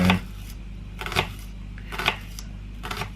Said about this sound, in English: just two relatively small red onions, and I'm just going to cut these up quite finely